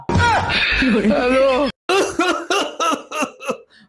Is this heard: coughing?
yes